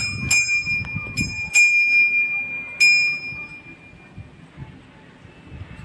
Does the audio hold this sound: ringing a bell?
yes